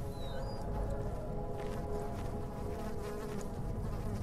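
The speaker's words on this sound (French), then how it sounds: "Là, il y a de la mouche." Flies buzzing steadily in the dark horror game Amnesia: The Dark Descent, a continuous insect drone layered over a low, rumbling ambient bed with no pauses.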